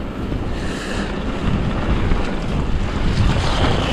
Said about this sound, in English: I can see why it's a raging torrent, Noel.